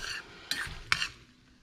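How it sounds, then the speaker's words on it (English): Butter melting in a heated Instant Pot pan gives a soft sizzle, broken by two brief scraping stirs of a utensil, close and fairly quiet. "You can already hear it starting to sizzle with nothing on it."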